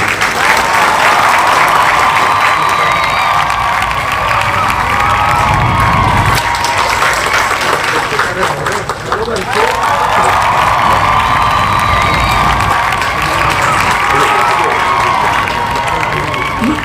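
An audience at a Vankar community gathering in Rajpipla breaks into loud, sustained applause mixed with cheers and shouts, a dense clapping roar that barely dips before swelling again.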